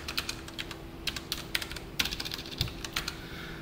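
Close, clicky keystrokes on a computer keyboard as code is typed: a steady, irregular patter of individual key presses with brief pauses, fairly loud and alone, no voices.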